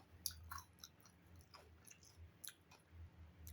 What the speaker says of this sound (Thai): ได้ยินเสียงไหมล่ะ แป้งมันกรอบไะพี่น้อง